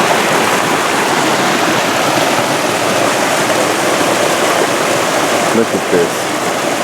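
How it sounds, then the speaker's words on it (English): Creek water rushes steadily through the woods, a constant broadband wash close by that fills the whole clip, with a brief spoken remark near the end. "Let's go check out this creek."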